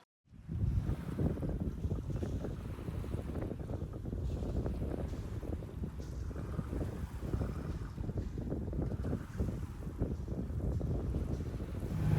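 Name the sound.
sailboat coasting in light breeze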